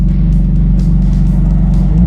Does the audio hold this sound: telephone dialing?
no